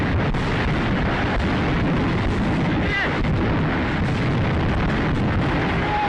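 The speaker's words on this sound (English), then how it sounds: "they're literally sitting within a massive explosion right now" Dense, continuous roar of explosions and artillery fire in war footage from Ukraine, with rumbling blasts, debris and smoke filling the air; a loud, unbroken wall of sound throughout.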